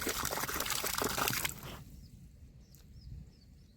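Irrigation water pours and trickles in a farm field, a splashing flow for about a second and a half that abruptly cuts off, leaving faint quiet background with a few soft drips.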